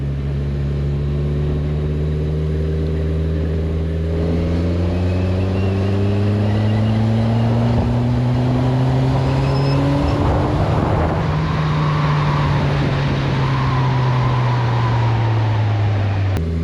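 A high-revving 2019 Kawasaki Z1000 SX sport-touring motorcycle engine climbs steadily in pitch toward its 11,000 rpm redline and holds a loud, sustained whine, close by, with no talking.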